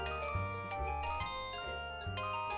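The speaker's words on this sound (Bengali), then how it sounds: "বল্টুর ফোন, আবার কি হলো কে জানে।" A cartoon phone rings as a repeating electronic tone, with bright, steady pulses sounding alone for a few seconds.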